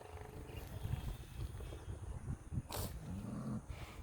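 An angry bull growls low and steadily while pawing and digging up the soil with both front legs, with a sharper snort-like burst midway; the rumbling sounds close and continuous, and no one speaks.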